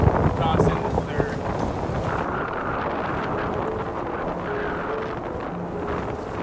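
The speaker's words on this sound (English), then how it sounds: "So Jackson, you'll head up into the wind." Strong wind buffets a sailboat as it heads up into the wind in a Mistral, with two reefs tied into the mainsail; a steady, loud roaring rush with microphone wind noise persists throughout, with no talk.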